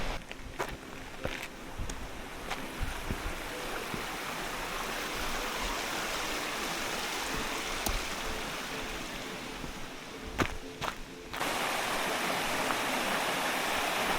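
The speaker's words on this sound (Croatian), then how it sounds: "Ovo iza što vidite je vodopad Zastavac na rijeci Kozici" Zastavac waterfall on the Kozica river, a roughly 50-metre cascade, giving a dense continuous roar of falling water that fills the whole stretch, with a few faint knocks over it.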